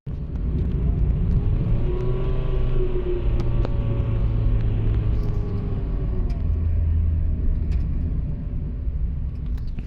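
A car with a slipping clutch, its engine droning in a steady low rumble with a slowly wavering pitch while driving, continuous and fairly close.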